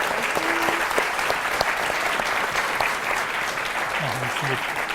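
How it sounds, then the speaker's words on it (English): Audience applause after a talk on video games, art and politics, a steady patter of clapping from a modest crowd that holds evenly for several seconds. "Can I get a round of applause for Pierre, please?"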